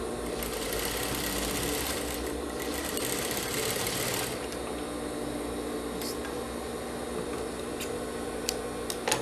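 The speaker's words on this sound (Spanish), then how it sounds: "Y cosemos a 1 centímetro para que la costura nos quede bien bonita" Sewing machine running steadily while stitching the cuff seam of a long-sleeved military-collar blouse at 1 cm, a continuous close mechanical whir with brief clicks near the end, no talking.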